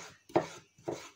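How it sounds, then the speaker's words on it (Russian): Two crisp knife chops land on a cutting board about half a second apart as tomatoes are cut, close and fairly quiet. "Как вам удобно будет, так и нарезайте помидорки."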